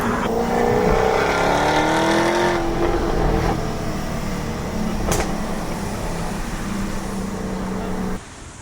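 A Jaguar F-Type R's engine roars loudly and steadily up close, its pitch climbing and then easing off, with a brief sharp crack near the middle before the sound drops suddenly at the end.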